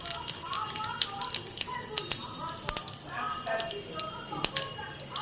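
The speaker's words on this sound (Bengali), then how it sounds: "আর এই তড়কার জন্য আমি প্রথমে তেল দিয়ে দিয়েছি, সাদা তেল দিয়েছি। তার মধ্যে দিয়ে দেব জিরে ফোড়ন" Cumin seeds sizzling in hot white oil for a tadka, dense crackling pops and sharp spitting bursts over a steady hiss, close and lively throughout.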